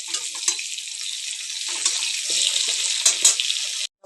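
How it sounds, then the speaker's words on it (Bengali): Potato pieces frying in oil with salt and turmeric, giving a steady close sizzle with brief louder crackles and scrapes, as if the pan is being stirred, running continuously before stopping abruptly near the end. "ওটাকে নুন হলুদ দিয়ে ভালো করে ভেজে নেবো আলুটা একটু সময় নিয়ে ধীরে ধীরে করেই ভাজতে হবে।"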